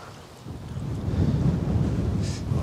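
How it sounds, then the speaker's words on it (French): Strong gusting wind on a golf course buffets the microphone, a low rumbling roar that swells after a quiet start and stays loud to the end, with no talking. "Mets-toi au milieu et là, il y a un gros vent."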